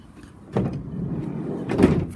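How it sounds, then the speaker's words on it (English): Sliding side loading door of a compact commercial van being worked, a sharp slide and thud followed by a second heavier rolling clunk shortly after, fairly close with no speech. "There's also a slide loading door"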